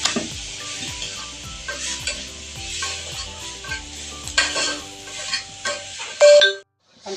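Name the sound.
porotta flatbread heating and sizzling on a dosa griddle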